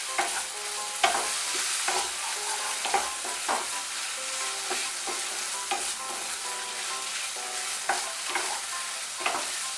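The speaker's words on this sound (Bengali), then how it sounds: "দিয়ে তেলটা ভালো করে মিশিয়ে নেব" Mustard oil is stirred into bitter gourd posto in a pan, with a spoon scraping in regular strokes over a soft steady sizzle, close and without voices.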